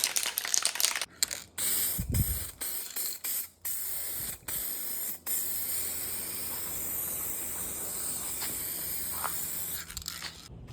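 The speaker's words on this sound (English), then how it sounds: "got another can of this Raptor paint. I just want to do another layover and everything" A can of Raptor paint hisses close by as it sprays a mini bike frame, with a few short bursts followed by a long, steady spray.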